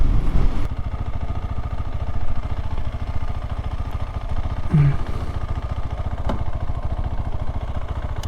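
A KTM 390 Adventure's small single-cylinder engine runs steadily on the road at a relaxed cruising pace, a constant mid-pitched drone with wind rush and no speech over it.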